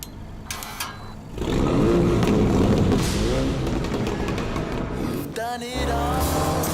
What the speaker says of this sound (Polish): To niewiniątko to uliczny gokart, który strzela popcornem.